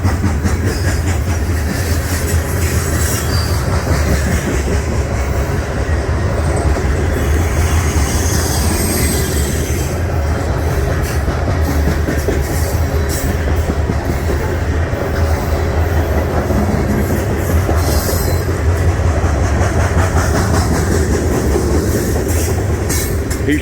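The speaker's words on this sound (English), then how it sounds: "That's all grain. Every last car on that train." Long loaded grain freight train rolling steadily past close by, a continuous heavy rumble of wagons with rhythmic wheel clatter and occasional faint squeal, no talking.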